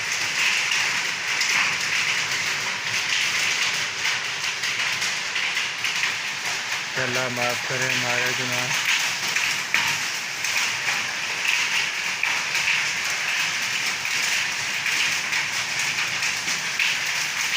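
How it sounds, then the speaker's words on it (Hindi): Hailstones falling on a road make a dense, continuous hiss and patter, loud and steady from start to finish, while a voice speaks briefly partway through. "ये बर्फ़ के गिरने की आवाज़ है।"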